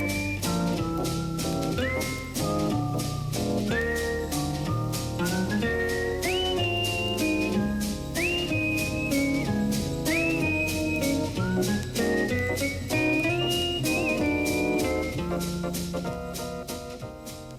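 A musician plays jazz guitar while whistling the melody in a recording, with the whistled line sliding between sustained notes over steady strummed chords for the whole stretch.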